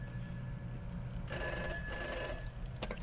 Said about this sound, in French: Oh, le téléphone sonne.